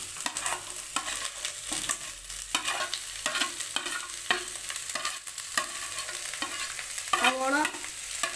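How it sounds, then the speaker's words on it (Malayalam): Sliced onions are stirred and sautéed in a pan for masala dosa filling. Close, rhythmic scraping strokes of a spoon repeat about once a second over a low sizzle, with no talk. "അതിനെ നന്നായിട്ട് മിക്സ് ചെയ്ത് ഏകദേശം ഒരു വാടി വരുന്ന രൂപത്തിൽ നമുക്ക് ആക്കിയെടുക്കണം സവോള ഇട്ട് കൊടുക്കാം"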